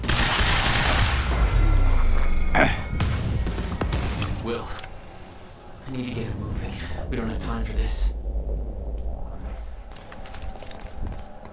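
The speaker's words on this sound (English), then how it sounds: "They are using bombs extensively, don't they?" Bombs exploding in the video game Quantum Break, heard as a loud rumbling burst of blasts and crackling debris at the start, followed by scattered thuds and lingering rumble, with muffled voices underneath.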